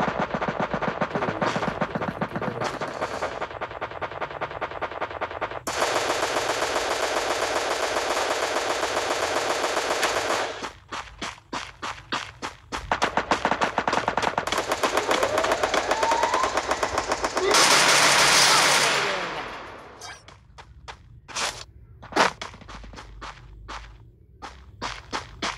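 Rapid automatic gunfire from the video game Free Fire rattles in long sustained bursts and shorter volleys, loud and continuous, with a brief louder blast near the end and scattered single shots.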